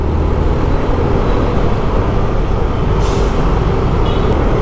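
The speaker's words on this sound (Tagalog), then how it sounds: "Grabe ang traffic." Dense road traffic on Osmeña in Manila, with cars, buses and trucks making a loud, steady engine rumble throughout and a short air-brake hiss partway through.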